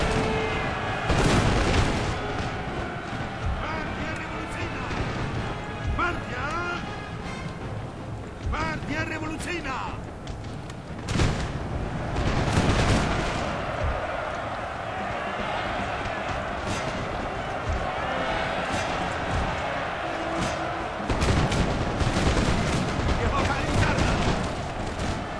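Cannon artillery booms and gunfire crackle through a Napoleon Total War battle in a Poland campaign, with repeated heavy blasts and continuous battlefield din throughout, while a player talks over it.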